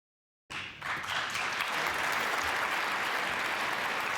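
A snooker crowd at the Masters final breaks into sustained applause for frame ball, a dense, steady wash of clapping that starts abruptly and holds loud to the end.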